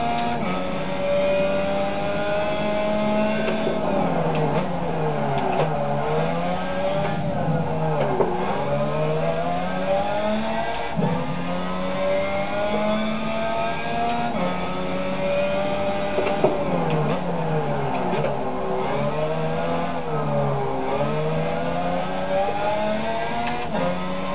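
A car engine in a racing video game played on a wheel with paddle shifters revs up through the gears, rising tones that drop at each shift in a repeating cycle, loud and steady throughout.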